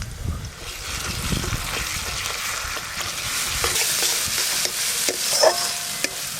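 Mustard and poppy seed paste with dried red chilli paste and turmeric stir-fried in a pan for a fish curry gives a close, steady sizzle with scraping stirs running throughout.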